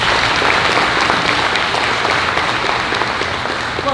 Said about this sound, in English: let's give Chris a big round of applause